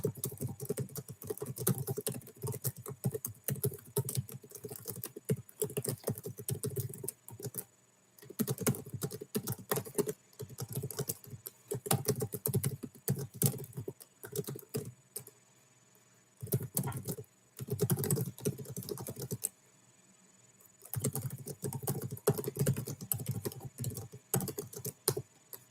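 Bursts of rapid typing on a computer keyboard during a data science coding session, close and crisp, broken by short pauses of silence.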